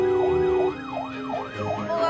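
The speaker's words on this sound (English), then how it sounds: "he's also oblivious to Heather's police car behind him." A police car siren wails in a rising and falling pattern close by on a highway, loud and continuous over road noise.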